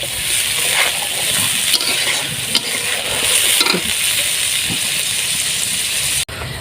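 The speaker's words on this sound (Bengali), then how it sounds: "এবার আমি ভালো করে মশলাটা কষিয়ে নেব।" Spice masala with milk sizzling and being stirred in a kadai for chicken chaap, a loud, steady hiss with scraping strokes of the spoon throughout and no talking.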